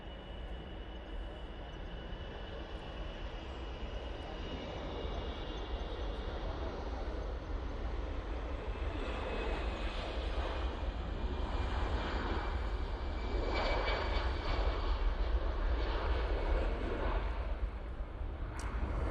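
An EasyJet Airbus jet departs for Bilbao, a steady engine rumble and roar building gradually and growing louder toward the end, heard alone at a distance.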